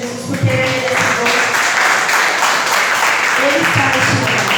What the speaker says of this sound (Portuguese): aplauda o nome do Senhor Jesus, porque ele é merecedor.